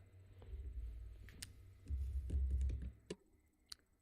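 Someone typing on an unusual computer keyboard, giving soft, scattered key clicks and a few sharper taps over a low, steady hum, quiet and close.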